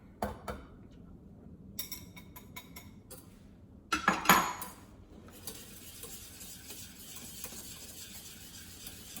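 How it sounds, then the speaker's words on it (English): Garbanzo flour and seasoning are stirred into warm water in a pot, with intermittent scraping and light clinks of a utensil against the pan, close by and fairly quiet, followed by a stretch of steady swishing. "I'm going to take this garbanzo flour along with my seasoning and I'm going to start to mix it in here right now."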